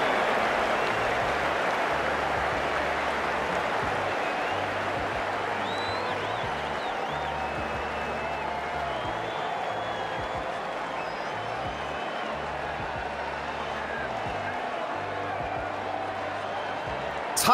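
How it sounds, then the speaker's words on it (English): Video game crowd noise from Cricket 19: a steady, dense wash of cheering and applause from a stadium crowd, sustained throughout at an even level. "The crowd are loving this."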